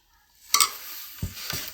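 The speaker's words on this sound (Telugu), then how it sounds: "పప్పు వేసుకుంటున్నాను" Lentils for mango dal drop into a pan with a sizzling clatter, followed by two short scraping stirs close by, with no talk.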